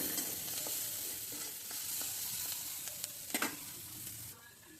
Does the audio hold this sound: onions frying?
yes